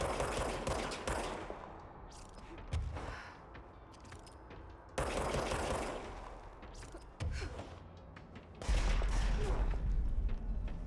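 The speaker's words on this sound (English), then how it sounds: "Who's shooting at me?" Gunfire in Control comes in dense bursts of rapid shots aimed at the player, repeating in several loud waves with brief lulls between them.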